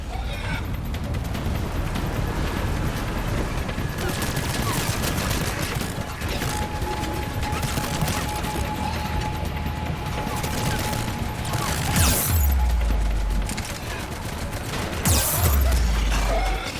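Rapid gunfire and mechanical weapon clatter from a Mass Effect 3 firefight, with bursts of shots, a couple of heavy impacts near the end, and dialogue between characters mixed in.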